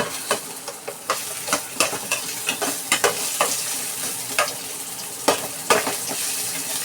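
Ginger sizzles in hot oil in a frying pan while a utensil stirs it, giving steady close frying crackle broken by repeated sharp scraping strokes, with no voices.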